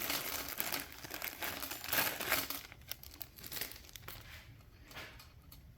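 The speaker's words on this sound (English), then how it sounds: "take out our bag of bolts" A plastic bag holding bolts for assembling a G6 belt grinder crinkles and rustles up close, in continuous irregular handling that peaks early and then eases into lighter crackles.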